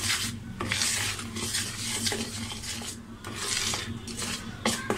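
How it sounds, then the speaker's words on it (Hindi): Ground semolina being stirred into sugar in a pot for an eggless mango semolina cake, giving steady scraping and rubbing strokes with light clinks of a utensil against the metal, close and continuous with no talk. "अब ये जो सूजी मैंने पीसी है इसके अंदर डाल दूंगी। ये और इसके अंदर इसे मिक्स करूंगी।"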